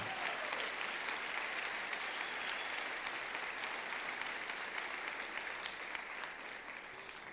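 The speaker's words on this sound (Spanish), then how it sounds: "déle ese aplauso con todo su corazón al Señor" Worshippers in a Spanish-speaking church give sustained applause to the Lord, a full, even wash of many hands clapping that carries on for several seconds and eases slightly near the end.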